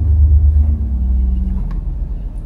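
Deep 32-foot harmonic bass stop of a church pipe organ, a heavy low rumble that fills the space, strongest at first and easing slightly while holding steady to the end.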